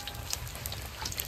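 Bay leaf and cumin sizzling in hot oil for a meat curry, a steady close crackle and spit of frying with tiny pops scattered throughout, no voices.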